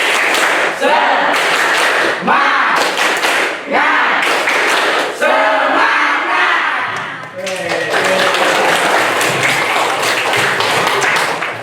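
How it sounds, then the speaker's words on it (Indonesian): A group of children performs a rhythmic spirit clap, bursts of brisk clapping in patterned groups with short pauses between, mixed with chanting voices throughout and a livelier crowd-like stretch near the end. "Tepuk semangat."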